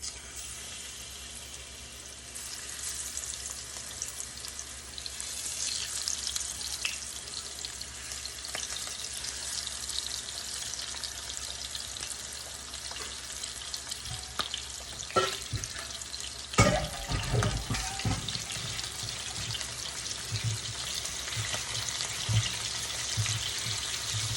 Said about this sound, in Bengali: তখন মাছটা আমি তেলের মধ্যে ছেড়ে দিব